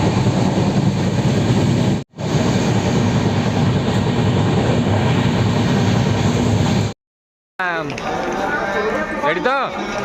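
A train runs at a railway platform on the way to Ayodhya with a steady, loud, rumbling rattle that cuts out briefly twice. A voice then speaks over station noise.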